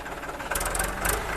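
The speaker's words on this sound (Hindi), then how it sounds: "यहां पे सरदार की रीपर बाइंडर मशीन चल रही है।" A Sardar reaper binder runs in a wheat field, its engine throbbing with a loud, busy, knocking drone and bursts of crisp cutting clatter over a short stretch.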